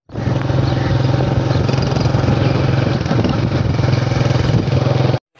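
A motorcycle engine runs steadily and loudly close by, a constant throbbing drone that holds for about five seconds before cutting off abruptly.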